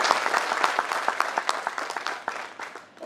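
Audience at a welfare gathering for families of fallen CRPF personnel claps together, a lively stream of distinct claps that starts strong and gradually thins and fades toward the end.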